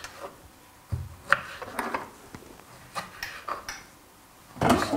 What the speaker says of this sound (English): we finish chopping all the vegetables